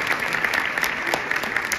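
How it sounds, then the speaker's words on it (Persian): An audience at a music school concert applauds, a steady patter of hand claps at moderate volume filling the whole moment without voices on top. "تشویق بفرمایید"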